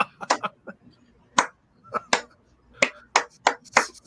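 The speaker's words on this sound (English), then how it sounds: "Slow clap, like one hand." A slow, uneven series of sharp single slaps or claps, about ten spaced hits over four seconds, close and fairly loud with silence between them.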